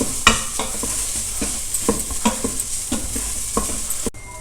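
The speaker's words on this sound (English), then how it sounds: "Just saute the rice in the ghee for a minute or so." Broken rice sauteing in ghee in a pot for pal payasam, a soft continuous sizzle broken by regular scrapes and knocks of a spoon stirring, close and fairly loud, with no voices.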